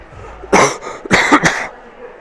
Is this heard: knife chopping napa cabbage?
no